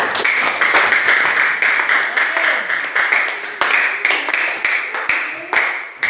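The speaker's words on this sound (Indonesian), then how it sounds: "tepuk tangan untuk Ulfi." A group claps hands at an Indonesian classroom discussion session. The clapping is loud, close and steady, with dense overlapping claps running throughout and a few sharper individual claps standing out.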